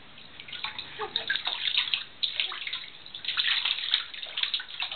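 Child splashing water in a bathtub, irregular bursts of sloshing and splashes repeating close by over a continuous watery background, without speech.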